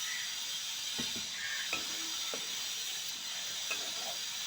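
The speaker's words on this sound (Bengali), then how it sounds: "এবার আমি ওই ভাজা পটল, আলু আর সয়াবিন দিয়ে দেবো।" Fried pointed gourd, potato and soybean chunks tipped into a pan of cooked-down masala, soft sizzling under a few scattered clinks and scrapes of a spoon against the pan.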